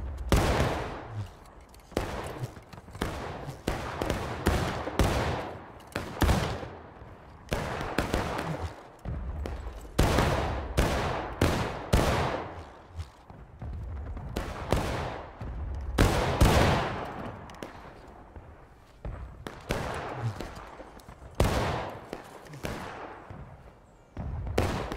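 Musket volleys crack out repeatedly in the War of Rights video game during a 120-player skirmish, loud overlapping bursts of gunfire in irregular waves across the whole stretch.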